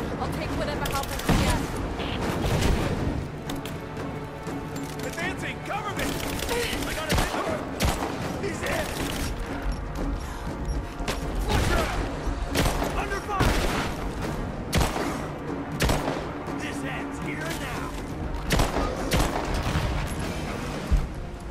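Dense, continuous gunfire and bursts of fusillade from a firefight in the video game Rise of the Tomb Raider, loud and sustained throughout, with voices talking over the shooting.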